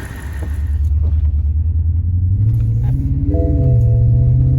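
A BMW E65 engine idles and runs with a steady low rumble and an uneven, stumbling pulse from a misfire after a spark plug change, swelling slightly as it revs, close and loud with no talking.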